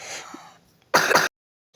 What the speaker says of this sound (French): Désolée pour les bruits, pour la personne qui tousse, c'est ma fille qui tousse.